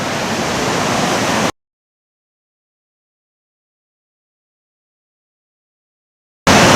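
The Wawona River in Yosemite rushes beneath a covered bridge as a loud, steady broadband roar of flowing water. It cuts out abruptly into a long silence and returns briefly at the very end.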